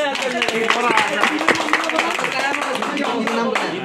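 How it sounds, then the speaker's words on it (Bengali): Hand clapping from a crowd at a cricket premier league auction event, a dense patter of claps running throughout with a voice talking loudly over it. "হাততালি দাও"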